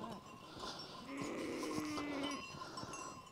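Sheep and newborn lambs bleat on a farm during lambing season, with a long drawn bleat in the middle over a softer background of other bleats and faint cowbell-like clinks.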